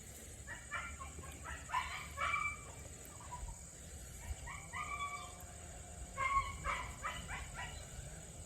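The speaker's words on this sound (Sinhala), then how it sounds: "අර ගෙදර පිස්සු බල්ලා කෑ ගහනවා උගෙන් හරිම කරදරයක් තියෙන දැන් නම්" A dog at a neighbouring house barks in several separate bursts of sharp, yapping barks, heard from a little distance over a steady high-pitched background tone and low rumble.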